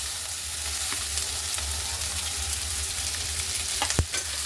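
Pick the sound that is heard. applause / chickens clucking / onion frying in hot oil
onion frying in hot oil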